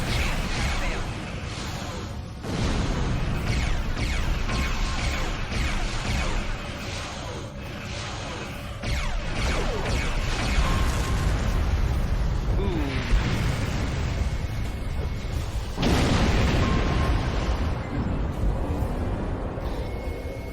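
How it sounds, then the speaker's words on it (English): A plasma torpedo launches and explodes in a Star Trek Online space battle, a loud stretch of dense whooshing and booming blasts with several bursts of impact, heard with game voice lines over a steady rumbling background. "Feed a plasma torpedo now."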